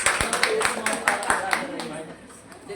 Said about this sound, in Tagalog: palakpak po sa Panginoon sa buhay ni Kuya Simon